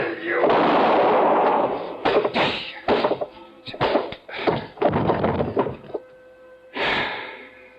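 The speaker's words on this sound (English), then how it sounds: "I knew the sound of the gunshot would bring the others back to the cabin." A loud gunshot blast and sharp thuds in an old-time radio drama, a burst of bangs followed by scattered hits and scuffling, with another shot-like crack near the end.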